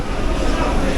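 A Katwa local train rolls into Konnagar station, a loud, dense, broadband rumble and roar filling the whole moment up close, with no break.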